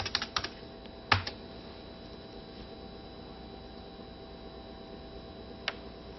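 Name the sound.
typing a command on a computer keyboard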